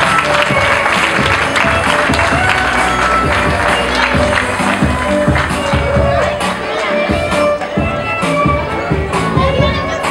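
Audience applause at a quinceañera greeting the godmother and her escort, a steady sustained wash of clapping mixed with crowd murmur and voices, loud and full throughout.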